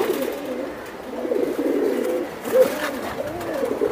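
Pigeons in a pair kept for tournament flying and breeding coo steadily in repeated low, throaty rolls, several overlapping calls close by with a brief louder burst partway through.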